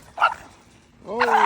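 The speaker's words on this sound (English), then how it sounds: "You guys better be careful, that's a big dog." A big dog barks twice, close and loud, with a short gap between the sharp, tonal barks.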